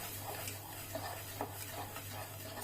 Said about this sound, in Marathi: सतत असं ढवळत राहायचे